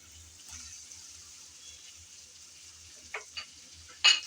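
Moringa drumstick stems go into a pan of well-fried spice paste, giving a faint, steady sizzle with a few short, sharper bursts of splatter and clatter near the end.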